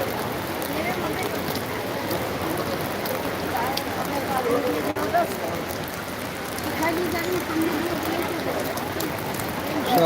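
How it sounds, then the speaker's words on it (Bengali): Heavy rain pours steadily at Belur Math during Durga Puja Ashtami, a dense, continuous hiss of drops close by with voices talking faintly underneath. "বৃষ্টি এখনো ভালোই পড়ছে মুসলধারে"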